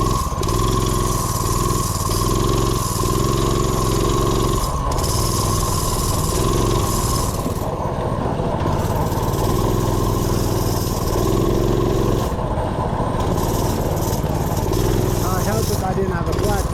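A Predator 212 small engine fitted to a TaoTao drift ATV runs close and loud with a buzzy, lawn-mower-like putter that rises and dips in pitch, with occasional voices under it.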